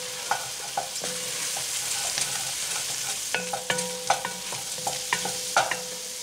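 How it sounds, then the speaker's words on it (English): Flour stirred into a roux in a pan for leftover turkey shepherd's pie, a steady soft sizzle with repeated scraping and tapping of the spoon against the pan. "I'm just going to add a little bit at first, stir it in until we can't see any more flour."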